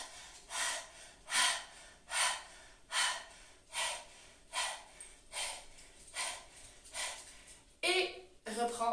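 Forceful rhythmic exhalations during a breathing exercise, about a dozen sharp breaths out at a steady pace, close and loud, ending in a few quicker, harsher breaths.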